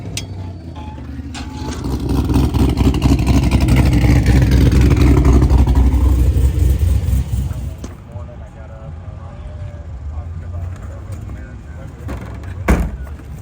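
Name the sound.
Pontiac GTO driving off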